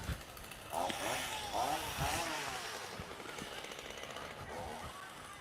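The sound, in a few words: gas-powered engine noise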